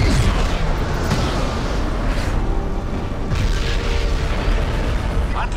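A booming blast from an atomic cannon in the Crysis video game, a loud, rumbling roar that rolls on continuously with a few sharper bursts cutting through it.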